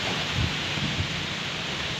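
Strong wind and heavy rain from Typhoon Kristine make a dense, steady roar with low rumbling gusts that continue throughout, loud and unbroken, with no voices.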